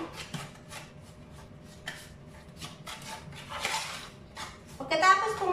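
Sugar, butter and cinnamon are stirred together in a bowl for a banana cake topping, giving soft scraping and clinking of a utensil against the dish, with a louder rattle near the end.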